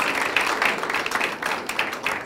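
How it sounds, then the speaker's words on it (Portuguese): Audience applause after a talk on innovation, a dense patter of clapping that stays fairly steady and moderately loud for a couple of seconds. "Un aplauso."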